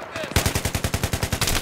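Rapid automatic gunfire in Battlefield 3, a loud burst of about a dozen evenly spaced shots firing in steady rhythm, close and dominant after a brief quieter lead-in.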